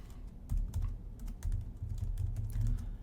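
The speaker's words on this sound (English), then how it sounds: "Okay, so I'm going to type here." Close, steady typing on a computer keyboard, with quick irregular key clicks running throughout.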